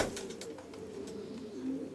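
Female racing pigeons cooing softly from resting boxes in a loft, a few low murmuring coos with brief wing and foot rustles, fairly quiet and close.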